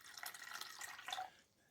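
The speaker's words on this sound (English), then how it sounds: "pour my jug of clean water directly into the glucosamine powder" Clean water poured from a jug into glucosamine powder, a faint, brief trickle and splash that fades out after about a second and a half.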